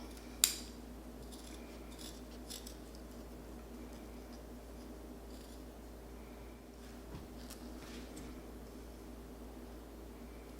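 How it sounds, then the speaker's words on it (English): Scissors cut two holes in the beard of a handmade craft gnome: a sharp snip near the start, then faint scattered clicks over quiet background hiss. "I'm gonna cut 2 holes in here"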